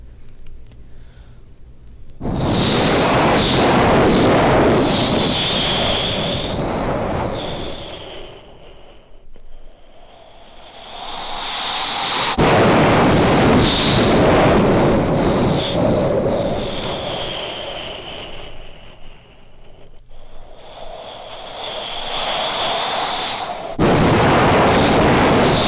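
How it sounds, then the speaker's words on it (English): Surf breaks on Leak's Ledge off to starboard, heard from a boat as loud, rushing roars that swell and fade in three long waves. "That was the surf breaking on Leak's Ledge off to starboard."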